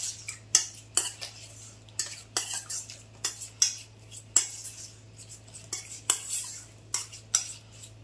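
Prawn marinade of egg white, ginger garlic paste and squeezed lemon being mixed in a bowl with a spoon, a run of quick metallic clinks and scrapes in irregular bursts, close and fairly quiet, steady low hum beneath.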